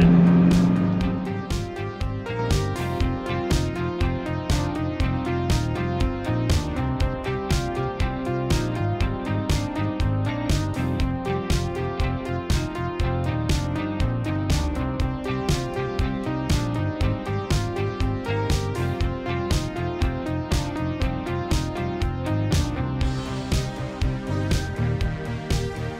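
A 1981 Ferrari 308 GTBi being driven, its engine a continuous moderate hum under repeated sharp clicks or ticks, with no talk throughout.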